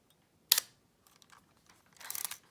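A Canonet rangefinder camera's shutter fires at slow speeds during an aperture blade repair. Two sharp, close mechanical clicks sound about one and a half seconds apart, with faint handling noise between them.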